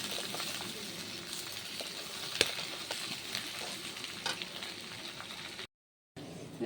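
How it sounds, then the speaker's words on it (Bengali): Chilli chicken with tomato and capsicum fries in a pan, a steady close sizzle with scraping stir sounds and occasional sharp clinks, continuing evenly until a brief gap of silence near the end. "সাথে টমেটো আর ক্যাপসিকাম এগুলোও দিয়ে দিব। এখন ভাজতে হবে কিছুক্ষণ।"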